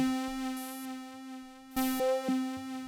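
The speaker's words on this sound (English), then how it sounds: "this is an ARP 2600 sample" A bright ARP 2600 synthesizer sample with a steady buzzy pitch, blipping into short stepped notes and fizzy high bursts, moderately quiet and alone.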